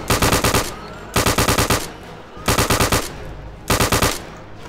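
Automatic weapon firing in Return to Castle Wolfenstein: four loud bursts of rapid shots, each about seven rounds in quick even rhythm, with short gaps of quieter game ambience between them.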